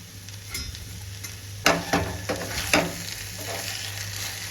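Egg and goat blood podimas fry in a pan with a continuous sizzle, broken by a few sharp scraping stirs of a spatula partway through, close up with no talk.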